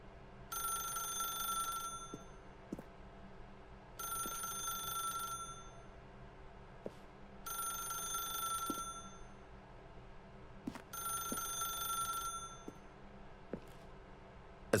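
Telephone bell ringing in the video game The Stanley Parable: four long electronic rings in a steady repeating pattern, each about a second and a half with short pauses between, clear over a low ambient hum, no talk.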